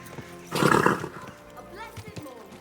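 A horse in the video game Kingdom Come Deliverance 2 gives a brief loud snort or whinny, with soft hoof sounds and a voice speaking around it.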